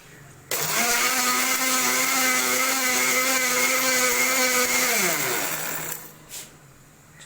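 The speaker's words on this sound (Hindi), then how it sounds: "ये हमने ग्राइंड करने के लिए इस मशीन के अंदर डाल दिया है। अब इसको ग्राइंड करने की कोशिश करते हैं।" An electric grinder whirs loudly and steadily for about five seconds while grinding garlic into powder, then winds down and stops, leaving a quiet tail with a small clunk.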